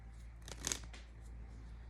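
A deck of playing cards is cut after shuffling, a quick crisp papery snap with a brief riffle around it, faint and close against a low steady hum.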